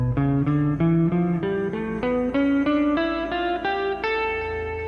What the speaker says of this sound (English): The notes of Charukeshi are the 5th mode of the melodic minor scale,